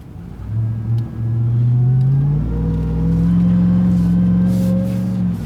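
A 702-horsepower Ram TRX pickup's engine revs up on snow, its deep, loud drone climbing steadily in pitch and holding strong through to the end, with no talking.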